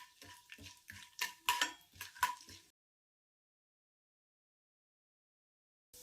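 Mustard seeds, urad dal and chana dal frying in hot oil, heard as a quick series of sharp crackles, pops and stirring clinks close up for a few seconds before cutting to silence.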